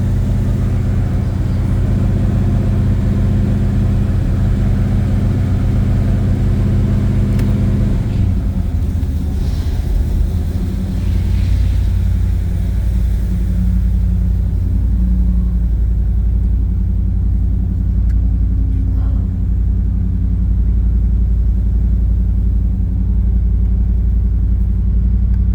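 A 1980 Chevrolet Malibu's 406 small-block V8 holds a high idle after a cold start in winter, a loud, steady, close rumble that drops to a lower, even idle partway through, with no talk.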